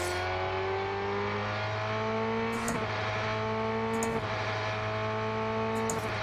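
Race car engine in the Rennsport racing game, a loud steady rising drone that drops sharply at three upshifts, each marked by a brief identical wobble before pitch climbs again.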